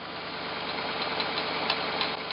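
Junkyard Jeep J7 hot rod rock crawler engine running and revving, a loud, close, continuous rough engine drone with slight pulsing and a couple of brief blips near the end.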